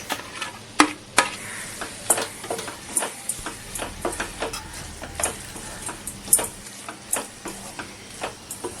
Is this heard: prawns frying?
yes